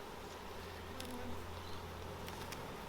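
Honey bees buzzing around an open beehive during a hive inspection, a steady low drone filling the background with no talk.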